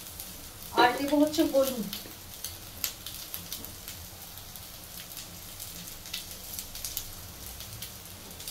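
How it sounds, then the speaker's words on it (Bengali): Taro pieces frying in a pan at home, a soft steady sizzle running throughout, with someone speaking briefly over it near the start. "এবার কচুগুলো একটু ভেজে ভেজে নিলাম"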